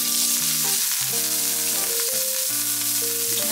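Small shrimp frying in hot oil in a pan for tacos, a loud continuous close-up sizzle with steady crackle throughout, backed by quiet sustained music and no talking.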